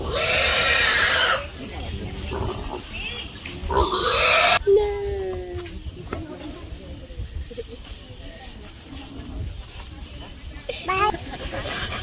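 A pig being handled during preparations for a luau birthday celebration in the Philippines gives squeals and grunts amid loud, rough commotion, with people talking around it.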